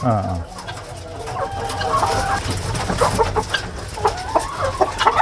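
Gramasree chickens cluck and call repeatedly at close range on a poultry farm, with several birds overlapping in busy, irregular bursts and a faint voice in the background.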